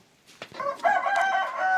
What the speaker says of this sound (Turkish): Çok güzel bir tavuk.